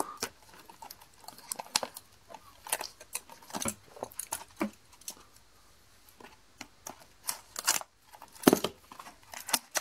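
Sharp snipping and crackling of scissors cutting open the packaging of a Pokémon card presentation pack, in irregular bursts with short pauses, fairly close.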